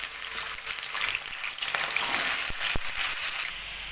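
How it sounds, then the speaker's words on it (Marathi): Potatoes frying in hot oil in a wok, a steady bright sizzle filling the space with a couple of sharp crackles and pops near the end, close and fairly loud with no talking. "तेल आपलं गरम झालेलं आहे, त्यात आपण आता बटाटे फ्राय करून घेणार आहोत"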